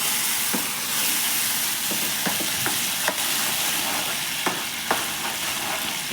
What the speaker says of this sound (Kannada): ಇವಾಗ ಟೊಮೊಟೊ ಹಸಿ ವಾಸನೆ ಹೋಗೋ ತನಕನೂ ಮೀಡಿಯಮ್ ಫ್ಲೇಮಲ್ಲಿ ಫ್ರೈ ಮಾಡ್ಕೋಬೇಕು